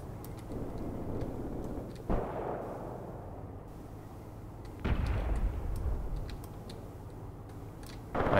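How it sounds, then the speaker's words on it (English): Mortar strikes landing in the Graviteam Tactics war game, two heavy booming impacts several seconds apart, each followed by a rumbling decay, over a constant low battlefield drone with faint distant pops. "And my mortars are, I think, starting to arrive."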